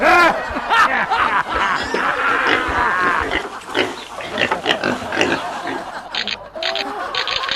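A pig grunts and snorts repeatedly in short, irregular bursts, close and fairly loud, mixed with voices talking and some snickering, in an animated farm setting.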